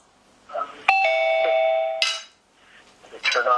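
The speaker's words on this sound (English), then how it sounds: "Let me turn off the doorbell so I don't keep getting notified as people come in" A two-tone electronic doorbell chime rings out clearly, a bright held ding then a second tone, with faint murmuring before and after.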